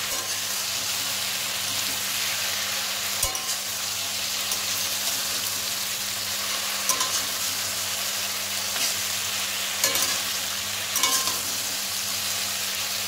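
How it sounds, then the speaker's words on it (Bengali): Taro, potato and mixed vegetables with turmeric fry and get stirred in a pan, a constant close sizzle under a low hum, with a few sharp scraping clatters of the spoon at intervals. "ভালোভাবে নাড়াচাড়া করে নিচ্ছি আমি।"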